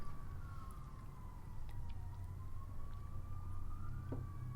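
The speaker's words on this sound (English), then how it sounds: "Sounds like there's an ambulance rolling by." A distant ambulance siren wails steadily as it passes, its pitch slowly rising and falling over a low traffic rumble, with no voices.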